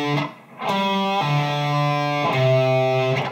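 Distorted electric guitar plays a slow riff with pull-offs, a few drawn-out notes sliding between pitches with thick sustained tone, loud and up close.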